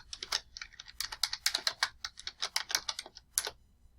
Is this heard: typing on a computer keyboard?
yes